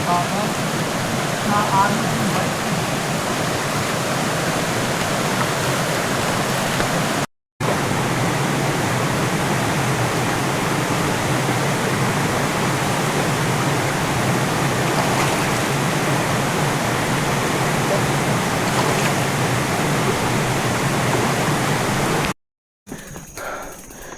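Continuous rushing water, like a river flowing over rocks, fills the scene at a steady loud level, with two brief dropouts.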